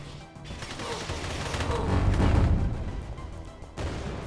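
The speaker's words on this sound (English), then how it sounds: "rocket launcher it is" A rocket launcher fires in the video game Beyond Citadel, a loud rumbling blast swelling to a deep boom midway, followed by a fresh sharp burst near the end.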